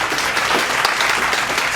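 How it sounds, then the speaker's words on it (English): A crowd bursts into steady, dense applause, loud and continuous throughout with no voices standing out. "Round of applause to both of my guys joining me today."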